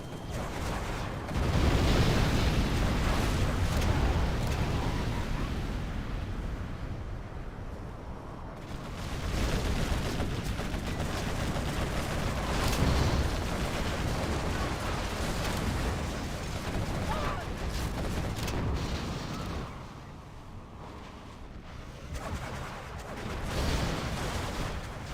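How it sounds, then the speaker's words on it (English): Artillery fire in a real-time strategy match between two teams, with a sustained rumble of distant booms and blasts rolling on for over twenty seconds, swelling and easing, with faint commentary underneath. "Okay, artillery coming across."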